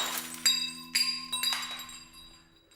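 Wine glasses perched on posts along an obstacle course get knocked, giving a series of about four bright glass clinks and rings that trail off, fairly close and with no voices.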